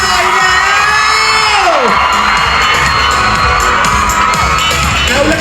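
Loud crowd of fans screaming and cheering for Cha Eun-woo at a Skechers grand opening, high-pitched shrieks sustained throughout, with a drawn-out voice over the noise near the start.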